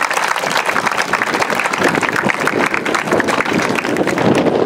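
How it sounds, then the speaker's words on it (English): Loud, steady applause from a crowd at an outdoor cancer awareness community event, dense clapping filling the whole stretch without a break. "applaud for yourselves for being out here today."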